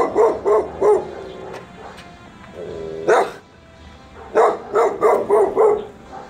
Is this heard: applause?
no